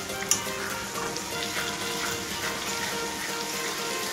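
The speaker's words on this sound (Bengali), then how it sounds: "তো দেখো মশলাটা কিন্তু খুব ভালোভাবে ভাজা হয়ে গেছে।" Spice paste for a mutton curry fries in hot oil with a continuous close sizzle and soft spattering, a single small knock near the start and no speech.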